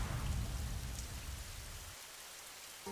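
Rain falls steadily in a soft, even hiss, quiet and continuous, and thins out slightly toward the end with no voices.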